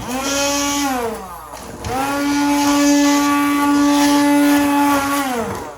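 A loud blender whirs at high speed through pumpkin soup, dips briefly as the motor slows, then roars back up and runs steadily before winding down.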